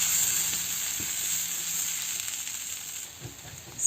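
A roasted chickpea mixture sizzles steadily in a pan on the stove, with a bright, hissing crackle throughout. Faint knocks of stirring come through under it.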